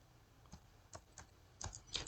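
A handful of soft, separate keystrokes tap on a computer keyboard as a password is typed, faint and close, about five clicks with uneven gaps and no voices.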